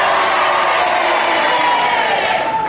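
Radio panel-show studio audience roaring in response to a challenge, a loud sustained crowd cheer with whoops that stays full throughout.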